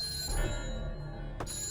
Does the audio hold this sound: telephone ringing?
yes